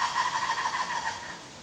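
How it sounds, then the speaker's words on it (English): A pair of red ruffed lemurs calling in the background, a sustained, wavering, droning chorus that holds for about a second, then fades into quieter background, no speech. "that noise you can hear in the background is our very noisy pair of red ruff lemurs"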